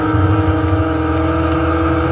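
A Ferrari's engine in the video game Super Runabout 2000 hums at a steady, loud, close drone with a sustained pitch and no speech.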